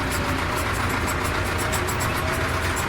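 A tractor engine runs steadily under load while its hydraulic lift raises a hay rake, a continuous mid-pitched mechanical drone with no voices.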